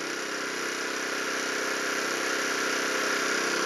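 A water well pump runs steadily while it starts to suck air near the foot valve. It makes a loud continuous mechanical hum and hiss that holds even throughout, with no speech.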